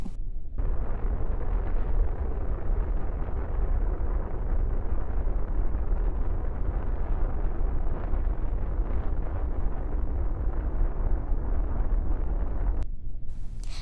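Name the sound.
Apollo LEM rocket engine test fire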